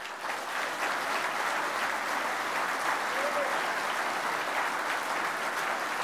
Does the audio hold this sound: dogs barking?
no